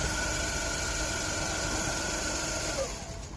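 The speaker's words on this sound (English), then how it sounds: "It is the belt making the sound." A car engine runs steadily after an alternator change, a constant close drone with a thin high whine from the drive belt layered on top, easing slightly at the end.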